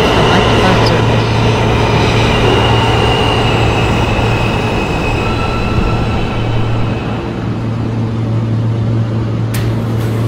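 An R160 New York subway train on the Rockaway Park shuttle rolls between Beach 98th and Beach 90th Streets with a loud continuous rumble and steady low hum from inside the car, a brief sharp click near the end.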